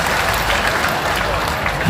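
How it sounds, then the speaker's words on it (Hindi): A rally crowd gives loud, dense, continuous applause for a state party president, the clapping sustained and evenly intense from start to finish. "जोरदार तालियां बजाओ हमारे प्रदेश अध्यक्ष जी के लिए।"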